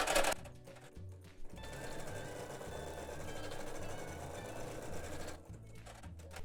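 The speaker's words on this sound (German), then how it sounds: "Die zweite Sequenz stickt jetzt alles fest." Embroidery machine stitching an in-the-hoop plush toy with a rattle and squeaker, a steady fast mechanical needle clatter running close and loud for most of the stretch, with brief pauses where the stitching stops.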